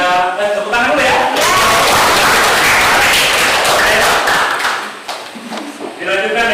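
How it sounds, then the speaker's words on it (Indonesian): A classroom group applauds after a chemistry presentation, a dense burst of clapping lasting several seconds between short stretches of talk. "Ada tepuk tangan dulu ya"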